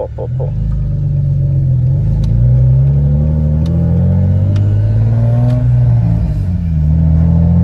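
A Nissan 350Z engine with a full-tube exhaust revs hard and rumbles loudly and close, the exhaust note rising and holding steady with no voices.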